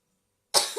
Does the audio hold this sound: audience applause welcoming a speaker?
no